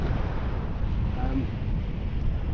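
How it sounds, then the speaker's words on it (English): Wind at Perch Rock on the River Mersey, gusting against the microphone as a steady, loud, low rumbling buffet with no other sounds breaking through. "The wind's picked up a bit chillier"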